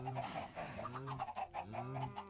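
Chickens in Minecraft clucking in quick repeated bursts, several close clucks overlapping in a choppy rhythm, moderately quiet.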